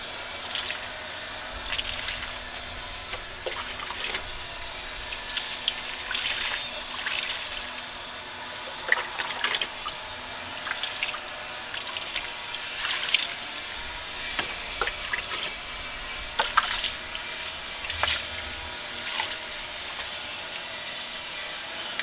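Water rinses cleaner off aluminum car wheel rims, a steady close spray and trickle with scattered splashes and drips running for the whole stretch, with no talk.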